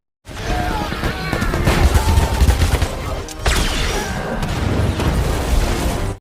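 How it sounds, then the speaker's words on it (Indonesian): Soldiers open fire in a cave scene from the Black Adam movie, heard as a loud, continuous fusillade of gunshots and booms with crashing impacts and whooshes, dense and near throughout. "Ted Adam ditembaki oleh tentara tapi dia kebal senjata jadi tidak terluka sedikitpun"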